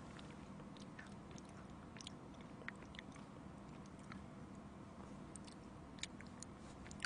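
Soft, close chewing of honeycomb comes through in a quiet stream of small wet, sticky crunches and clicks, heard alone.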